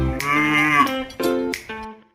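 A farm cow gives one long moo, then a couple of shorter lowing calls follow in quick succession. It sounds close and clear, with no talking over it.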